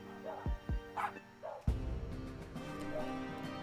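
A small cartoonish dog in the video game Lil' Guardsman gives a few short yips and barks close up, followed by a low rumble and soft background hum.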